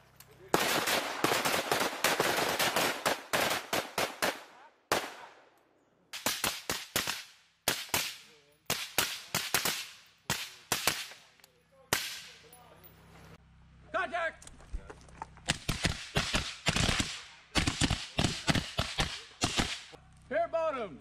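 Rapid rifle fire during U.S. Marine close-quarters battle training, loud sharp bursts of shots in clusters separated by short pauses, close range, with shouted commands between volleys.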